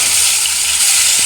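Katla fish pieces frying in oil in a pan, a steady close, bright hiss and sizzle running evenly throughout with no talk over it.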